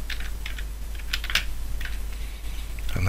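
Someone types a phonetic spelling on a computer keyboard, a quick series of soft, close key clicks over a low steady hum, with no voices.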